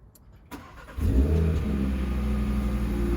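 A 400 hp Audi RS3 sedan fires up: a short starter whir, then a sharp, loud rev flare that settles into a deep, steady rumbling idle, heard up close from inside.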